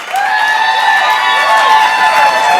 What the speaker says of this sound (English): So keep that applause going. Raise it up and make it louder.